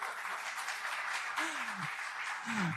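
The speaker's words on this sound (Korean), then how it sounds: "여러분 다시 한번 큰 박수 부탁드립니다" Audience applause at a People Power Party candidate nomination ceremony forms a soft, continuous wash of clapping, with a voice briefly heard over it.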